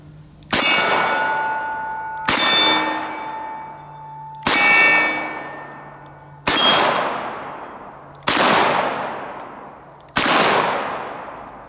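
Six loud, evenly spaced shots from a Smith & Wesson Model 610 10mm revolver with a 6.5-inch barrel, each a sharp crack with a ringing metallic tail, fired alone with no talk.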